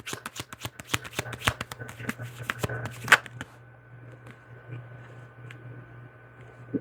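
Tarot cards shuffled by hand, a rapid run of crisp riffling flicks for about three seconds, then a sharp slap and quieter handling with a low steady hum underneath.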